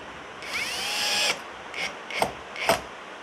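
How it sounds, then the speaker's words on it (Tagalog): A brushless impact drill drives a screw in one steady whirring run of about a second, then three short bursts follow it, close and fairly loud, with no talk. "natuwa ako dito sa Viole Works na brushless impact drill"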